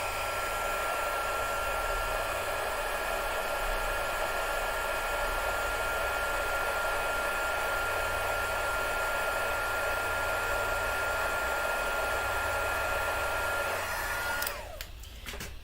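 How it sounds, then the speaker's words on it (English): A heat gun blasts steadily to dry ink on a card-making project, a loud continuous airy roar held for about fourteen seconds before it cuts off abruptly near the end. "I'm just going to get my heat gun and blast that ink"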